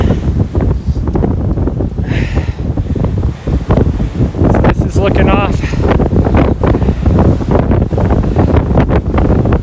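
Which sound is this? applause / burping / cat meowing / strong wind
strong wind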